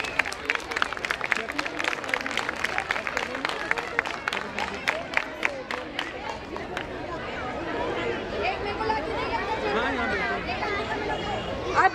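Loud, steady applause from the audience at a school annual function fills the first half, then fades into general crowd chatter and hubbub.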